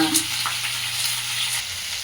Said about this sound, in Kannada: ಆಯಿಲ್ನ ಹಾಕ್ಕೊಂಡಿದ್ದೀನಿ ಮಸಾಲ ಫ್ರೈ ಮಾಡ್ಕೊಳ್ಳೋದಕ್ಕೆ